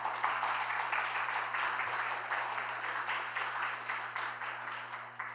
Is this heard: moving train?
no